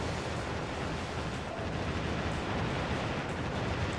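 61 centimeter warship guns firing in Warship Gunner 2 video game, a dense continuous roar of booming blasts and rumbling, loud and sustained without speech.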